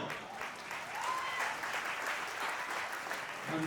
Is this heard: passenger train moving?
no